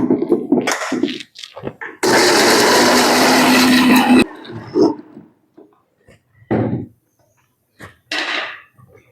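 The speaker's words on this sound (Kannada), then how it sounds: "ಈಗ ಮಿಕ್ಸರ್ ಅಲ್ಲಿ" A kitchen mixer grinder whirs loudly for about two seconds as it grinds ginger-garlic paste with salt and water, a steady high-pitched motor roar. Before and after it, people talk nearby in short bursts.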